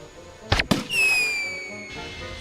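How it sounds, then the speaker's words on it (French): Cartoon fireworks burst with two sharp, loud cracks followed by a long whistling rocket streak that slowly fades, with no talking. "Sabre de bois, un feu d'artifice."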